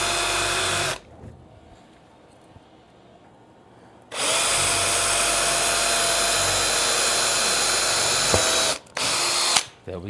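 Loud whirring of a power drill boring holes for a germination station, with a short burst at first, a few quiet seconds, then a long sustained run and two brief final bursts.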